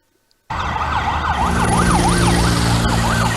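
Sirens of a police convoy escorting cricket team buses through closed roads in Karachi suddenly blare up close and loud, a wailing up-and-down tone over a steady engine drone.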